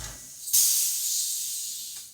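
A PointZero airbrush with a MAC valve, its tip removed, releases a sudden strong hiss of air that holds steady for about a second and a half, then fades slightly.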